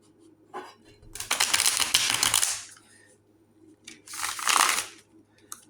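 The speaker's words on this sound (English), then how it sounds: "I'm going to shuffle one more time." Tarot cards riffle and rustle in two bursts of brisk shuffling, the first longer, the second shorter, close by with no talking.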